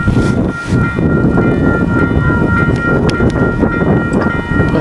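A train rumbles past close by, a dense continuous roar with a faint high tonal whine layered on top throughout.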